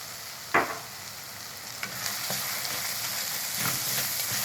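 Rice seasoned with black pepper, spices and salt is stirred in a hot pan, a soft steady sizzle with one sharp utensil knock near the start and a few lighter scrapes after.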